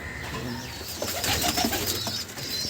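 Kaldum high-flying pigeons coo softly and shuffle close by, with some light wing flutters and rustling.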